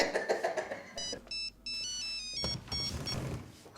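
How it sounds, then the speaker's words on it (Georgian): A mobile phone ringtone plays a repeating melodic electronic pattern, fairly clear over quiet room sound and brief background voices. "არ უნდა მითხრა ტელეფონი რომ ირეკავს"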